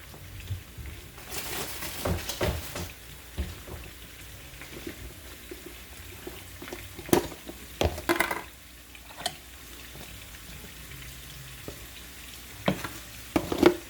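Onions frying in a pan for an eggplant sauce, a steady low sizzle with intermittent clatter and scraping of stirring, moderately close and without talk.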